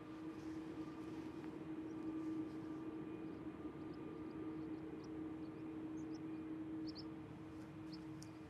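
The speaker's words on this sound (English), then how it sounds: "So that's the A330 to Boston." An Airbus A330 airliner departs Schiphol airport as a faint, distant steady jet engine drone with a constant hum, heard alone without talk.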